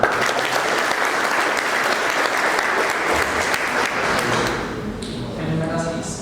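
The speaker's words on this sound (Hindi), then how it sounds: "एक और बार यार ताली बजाइए" Audience applause at a motivational success event, dense sustained clapping from a large crowd throughout, loud and steady, tapering slightly near the end.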